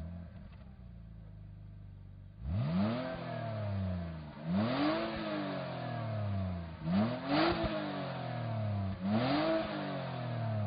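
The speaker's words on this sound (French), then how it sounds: "Vous aimez le son du moteur?" A 2006 BMW 330xi accelerating on the road, the engine revving up through several gears in a rising then dropping pattern with four strong pulls after a quieter start, heard close and alone.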